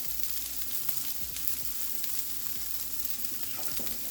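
Vegetable stir fry sizzles steadily in a hot pan as salt goes in, a continuous close hiss with faint clinks and low scraping underneath, and no voices.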